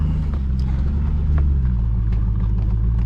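Off-road vehicle in two-wheel drive, tires aired down to 12 PSI, crawling over a small trail obstacle on the way to Tucson, a loud, close, steady engine rumble with faint knocks from the terrain.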